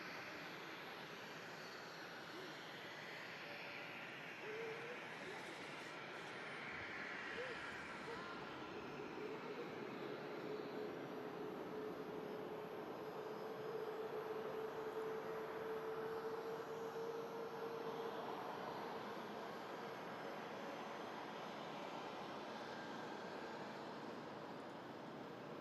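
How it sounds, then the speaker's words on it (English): A Boeing Dreamliner airliner taxis out at an airport with a continuous, distant engine whine and rumble. A faint rising tone runs through the middle, and no voices are heard. "Another Dreamliner on a taxi out."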